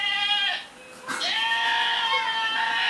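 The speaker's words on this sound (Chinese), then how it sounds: "你说羊叫声音吗？" A goat bleats from a video played aloud on a device, long wavering nasal cries, loud and slightly tinny, with a short break between calls.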